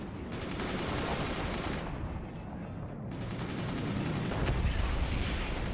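Rapid machine gun fire from Forts RTS rattles on steadily as a dense, loud, continuous burst, with heavier booms swelling underneath toward the end.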